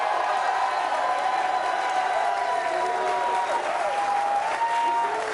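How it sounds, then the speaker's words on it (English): A studio audience at a sports debate show gives a round of applause, loud, continuous clapping with some cheering and whoops mixed in, sustained at an even level throughout. "let me hear a round of applause"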